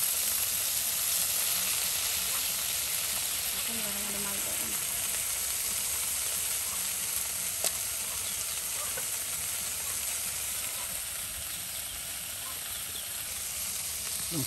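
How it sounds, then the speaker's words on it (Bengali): Fish fry in hot oil in a village kitchen, a constant close sizzle and hiss that runs unbroken, with a faint voice and an occasional small clink of utensils underneath. "দেখুন মাছ একদম ভাজা হয়ে গেল"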